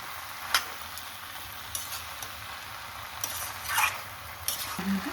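Potato, pointed gourd and papaya being stirred and sautéed in a pan for a Bengali dalna curry, a steady low sizzle broken by a few sharp scrapes and clinks of the spoon against the pan, close and moderately quiet.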